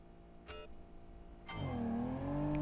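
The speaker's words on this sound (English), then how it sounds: "A manual car with 333 brake horsepower, 6-cylinder engine. Makes a good noise." A simulated ETK 800 six-cylinder manual car with 333 horsepower in the BeamNG driving game. Its engine hums steadily, then rises into a loud, sustained rev with climbing and settling pitch, punctuated by two brief sharp clicks.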